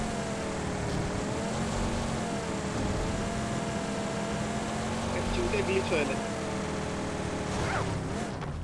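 A vehicle drives in the mobile game BGMI, its steady engine whine wavering in pitch throughout, with players talking continuously over it.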